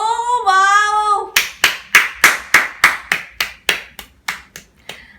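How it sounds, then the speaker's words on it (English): A single person claps hands about a dozen times in a steady, fairly quick rhythm, close and sharp, right after a brief excited vocal exclamation. "I wish I could clap harder"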